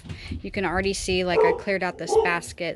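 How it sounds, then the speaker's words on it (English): Dogs bark and yip indoors in a cluttered craft room, the barks close and repeated while someone talks over them. "Sorry my dogs are barking."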